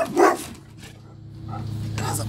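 A large dog barks outdoors, a loud bark at the start followed by quieter yips and whimpers, with people talking nearby through the rest.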